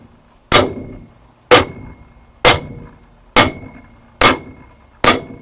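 A hammer strikes the forged end of an MGB universal-joint yoke welded to a propeller shaft tube, six loud, ringing metallic clangs spaced about a second apart, each decaying quickly, with no talk.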